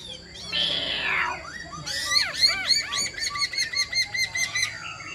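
White-cheeked laughingthrush singing close up, a sweeping call followed by a rapid run of loud, repeated whistled notes over a quiet background.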